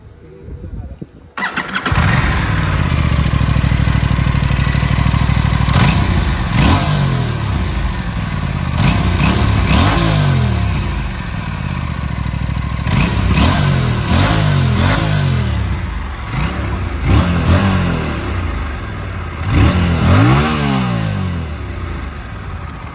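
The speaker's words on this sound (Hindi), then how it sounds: "सो अभी इसका एग्जॉस्ट नोट सुनाता हूँ आपको" An Aprilia RS 457 sport motorcycle engine fires up, then revs repeatedly in loud, sharp bursts, climbing and falling with a raspy exhaust roar up close.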